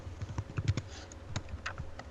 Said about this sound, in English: who's furiously typing?